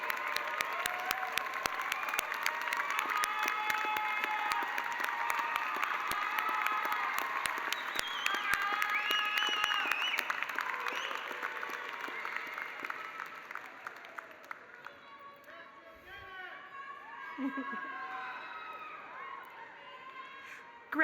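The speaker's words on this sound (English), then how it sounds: "let's all clap as loud as we can and say thank you" At a University of Ontario Institute of Technology convocation, a large audience applauds with dense, sustained clapping and a few cheers. The applause gradually thins and fades after about fifteen seconds, leaving scattered claps and murmurs.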